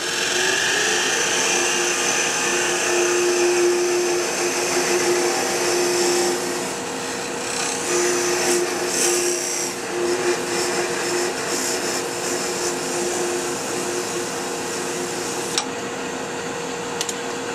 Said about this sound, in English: To cut this off, I'm going to use my shop-built parting tool, and I'm going to gently slice away that end